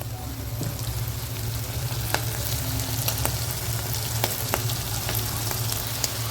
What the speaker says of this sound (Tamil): ஓரளவுக்கு நல்லா வதங்கிடுச்சுங்க